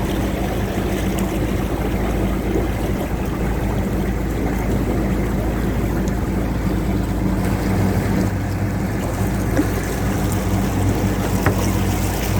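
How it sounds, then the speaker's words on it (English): Boat engines chug steadily in the background with wind noise as boats queue at a canal lock on the Trent and Mersey Canal, a continuous low rumble without talking. "There's about 3 or 4 boats queuing to come down."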